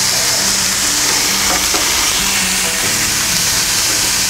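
A ribeye steak sears on a hot grill with a loud, dense, unbroken sizzle and hiss, close up, with faint clinks and scrapes under it and no speech.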